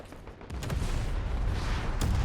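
A Cold War-era launcher firing in the strategy game Men of War: Assault Squad 2, a dense rumbling blast that swells and holds, with a short burst of sharper reports near the start.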